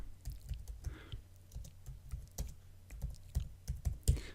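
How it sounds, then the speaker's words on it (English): Computer keyboard typing text, a quick irregular string of close, light key clicks and taps with small pauses between bursts, fairly quiet and with no voices. "we'll type in Minster."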